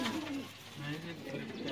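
Pigeons coo softly in short rising and falling phrases, close by, with a low indoor background.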